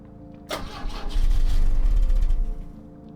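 A car engine in the video game The Drifter cranks with a rapid rhythmic chugging but never catches, a close mechanical churn lasting about two seconds before fading out.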